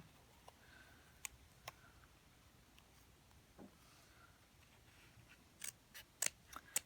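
Scissors trim craft material indoors, making faint, sparse snips and clicks that cluster into a quicker run of crisp cuts near the end, with no talking over them.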